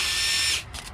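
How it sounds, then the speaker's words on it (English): A power tool whirs loudly for about half a second, then gives a couple of short follow-up bursts while removing transmission bolts on a Mercedes Sprinter, close up with no talk. "I'm gonna start removing all of these bolts"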